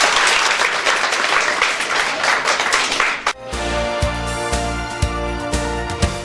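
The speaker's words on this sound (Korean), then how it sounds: "여러분 우리 큰 박수로 오늘 이 행사를 마치겠습니다" Big round of applause from an audience closing a youth unification debate event, a dense crowd clapping for about three seconds before it cuts to steady background music with a rhythmic beat.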